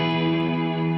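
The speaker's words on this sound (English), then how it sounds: "I sent the reverb to the other side of the speaker, to the right side" A distorted electric guitar from a cover rings out as one sustained, harmonically rich chord, with its reverb panned to the right side and the sound held steady throughout.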